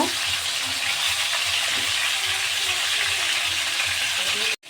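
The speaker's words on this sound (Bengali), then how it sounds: "তো ফার্স্টে হচ্ছে চিকেনগুলো ভেজে নেব।" Salted chicken pieces fry in a pan with a loud, continuous broadband sizzle that stays even throughout before cutting off abruptly at the end.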